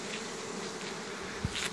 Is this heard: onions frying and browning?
no